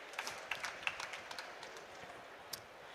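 A round of applause from the audience at a youth climate adaptation awards ceremony, faint, scattered clapping heard from a distance with a few sharper individual claps.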